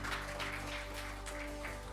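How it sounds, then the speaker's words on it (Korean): Seated audience at a digital innovation forum in Korea gives soft, distant applause over a steady background hum. "개회 말씀해 주신 강상봉 회장님께 다시 한번 큰 박수 부탁드리겠습니다"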